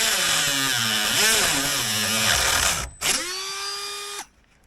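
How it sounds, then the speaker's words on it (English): A Dremel cutting disc cuts through wood and into a screw on a Mirror dinghy skeg with a loud, high whine that rises and falls under load, stops briefly, then resumes steady before spinning down. "So I'm hoping this will cut through the wood and just nick through the screw"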